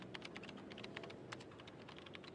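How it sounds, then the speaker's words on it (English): A character in Max Payne 2 types steadily on a computer keyboard, with rapid uneven clicking keystrokes, quiet and alone. "he's typing away"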